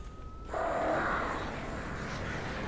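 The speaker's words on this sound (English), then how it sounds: "Birds." Crows cawing in the video game Alan Wake Remastered, a harsh burst of calls that starts abruptly and fades into a continuous outdoor ambience, with no voices.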